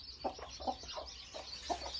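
Local free-range chickens cluck in a quiet yard, a series of soft, irregular clucks spaced through the moment, fairly faint with no one talking.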